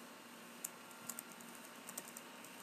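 Soft, irregular key clicks tap on a computer keyboard while typing in Microsoft Word, faint and close, with a few scattered keystrokes over a quiet hiss.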